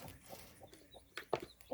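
Chickens in a pen give faint, soft clucks in a few short bursts, heard quietly at some distance with no talk.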